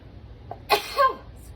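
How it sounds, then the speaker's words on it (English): A single sharp sneeze from a person near the microphone, a short burst rising to a second louder peak, with a quiet indoor background before it. "And I'm gonna sneeze."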